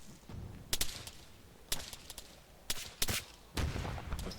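Frag grenade explosion and gunfire in the ArmA 3 military game: several sharp, loud bangs and bursts spread irregularly across a few seconds over a steady low rumble of battle ambience.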